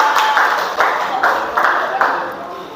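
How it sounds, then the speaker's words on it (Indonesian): Classroom applause for a student during a teaching practice exam, a steady wash of many hands clapping with several louder rhythmic swells over about three seconds, fairly close and continuous. "Kita kasih tepuk tangan dulu"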